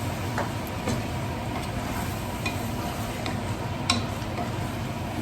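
Ground masala paste for pudina chicken biryani frying in oil, a continuous close sizzle with scattered faint ticks and scrapes of stirring throughout.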